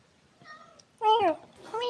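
A house cat meows twice, close and clear, a soft short call followed by a louder, longer rising-falling meow in a quiet indoor room.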